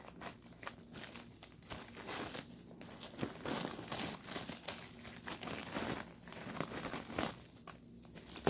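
Tearing open a repair package for a red Roboquad, heard as continuous crinkling and ripping of packaging with scattered crunches, fairly close and steady for several seconds.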